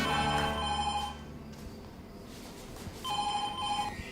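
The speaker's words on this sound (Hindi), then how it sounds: "मालिक और मेम साहब को अभी फोन मिलाते हैं" A telephone rings in two bursts of a trilling electronic bell, separated by a quiet gap, loud and close with no one talking.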